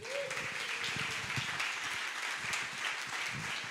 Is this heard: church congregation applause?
yes